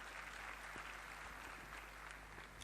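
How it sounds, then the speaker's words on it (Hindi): An audience claps at a motivational talk, a steady dense patter of applause at low volume throughout with no voices over it. "आपने तो ताली बजा दिया"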